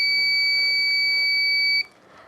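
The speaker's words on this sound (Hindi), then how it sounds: "आंख बंद करने से बजर बजता है" A driver drowsiness alarm buzzer sounds a loud, steady high-pitched electronic tone that holds continuously and then cuts off abruptly near the end.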